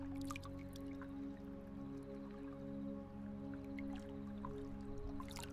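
Quiet night water at a farm pond: gentle, scattered drips and soft splashes over a faint, steady low hum.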